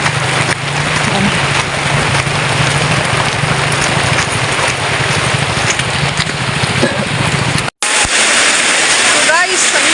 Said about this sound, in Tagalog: kasi umuulan dito